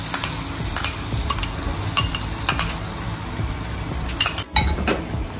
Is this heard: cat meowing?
no